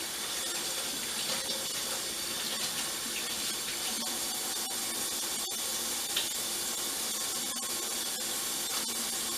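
Shrimp get rinsed under a running kitchen tap, a steady, even rush of water splashing into the sink for the whole stretch, with small clicks and knocks over it.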